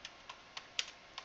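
Keys on a computer keyboard tapped to enter a command on a Debian system, about six crisp separate clicks in an uneven rhythm, close and fairly quiet with no talking.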